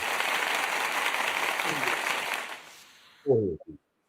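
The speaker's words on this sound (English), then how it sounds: "We can give you a round of applause." Audience applause at a talk show fills the first two and a half seconds as dense steady clapping, fades out, then a brief voice follows after a pause.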